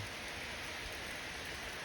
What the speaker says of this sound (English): Rain looks cool.